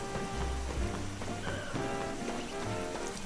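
Steady rain falls in the Pokemon Legends Z-A video game world, a continuous hiss of raindrops on surfaces with faint scattered tones of game sound mixed in, constant throughout with no talking.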